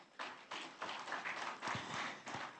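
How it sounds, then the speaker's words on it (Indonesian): An audience claps for Deputy Minister Raden Isnanta at a gathering of Indonesia's sports community, quiet and somewhat distant, with a series of separate bursts of hand claps across the moment. "Diberikan tepuk tangan untuk beliau."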